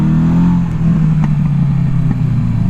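A 1982 Suzuki GS750T motorcycle engine while riding, a steady loud droning hum with a low throb and wind, running continuously without pause.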